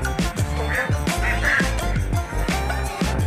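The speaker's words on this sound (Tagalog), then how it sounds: "Meron siya mga pato ron." Ducks quack repeatedly in a lively, overlapping chorus, with a steady rhythmic background thumping throughout.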